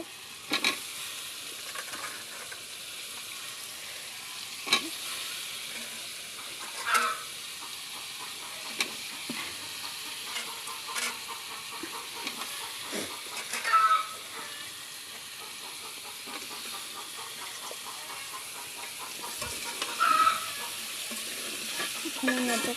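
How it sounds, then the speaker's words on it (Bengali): Papaya and fish stirred and frying in a pan, a steady sizzle broken by repeated spoon scrapes and occasional louder clanks, close and without talk. "পেঁপুগুলো দিয়ে সুন্দর করে বুনে নেব"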